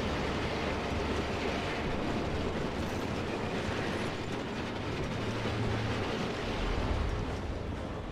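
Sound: train moving in video game Resistance 3

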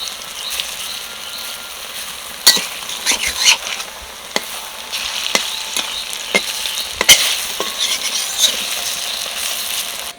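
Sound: deep-frying wild taro leaf fritters in oil

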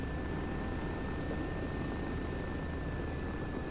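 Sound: Russian Mi-24 Hind helicopters, likely from a video game

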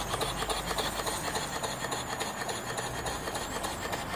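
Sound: small steam engine running on steam from a live boiler

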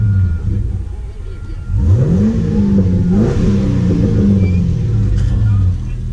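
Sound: Chevrolet Camaro engine revving

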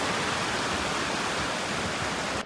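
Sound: stream of snowmelt water flowing

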